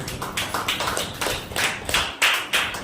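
Loud hand clapping, a quick run of sharp claps at a steady beat, close by and uneven in strength, with no talk.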